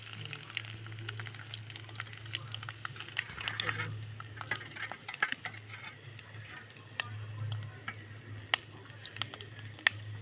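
Mustard seeds and fenugreek spluttering in hot oil give a steady sizzle with scattered sharp pops and crackles, faint and close, under a low hum and some background voice.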